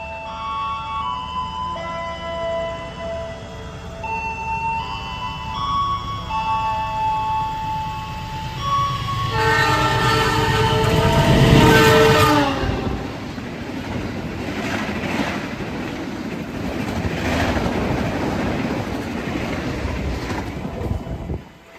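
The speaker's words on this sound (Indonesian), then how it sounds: "kereta api Sembrani tambahan dulu ya, melintas langsung di stasiun Kertasemaya" The extra Sembrani passenger train rumbles at speed straight through Kertasemaya station in Indonesia, its horn blaring and wheels clattering loudly as it passes close, then fading into a steady rolling roar.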